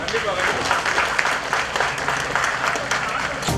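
A protest crowd claps for an official, with sustained loud applause running throughout and voices mixed into the clapping.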